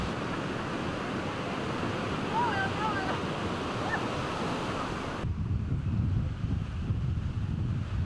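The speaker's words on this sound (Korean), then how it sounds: "겨울에도 파도를 타려는 사람들로 붐비는 케이프타운 인근의 해변." Ocean waves washing onto a surfing beach near Cape Town in winter, a steady broad rush of surf with wind noise on the microphone, the sound thinning abruptly partway through.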